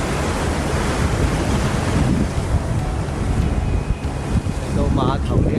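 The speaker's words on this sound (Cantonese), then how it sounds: "好大浪啊！" Big ocean waves breaking on the shore at the Sea Ranch (Cheng Bik Village) make a loud, continuous roar with heavy wind buffeting close by, and a brief voice comes near the end.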